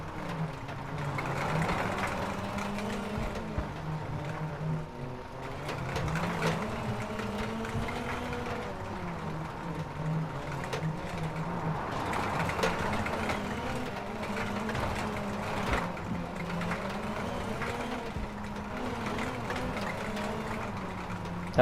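A continuous Ford Fiesta WRC rally car engine drone from the WRC 9 video game, with repeated rising and falling pitch sweeps as it revs and shifts, steady and moderately loud throughout.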